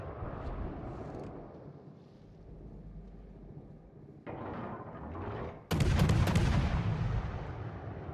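Naval guns on a destroyer in World of Warships, with a distant rumbling start, then two big booming salvos near the end, the last one loudest, and no talk.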